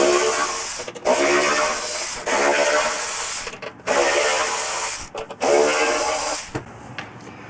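Torx 25 screws being backed out of a Harley Softail motorcycle fuel tank with a power driver: several long, loud buzzing runs separated by brief pauses, ending in a quieter tail.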